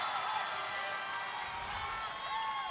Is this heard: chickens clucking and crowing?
no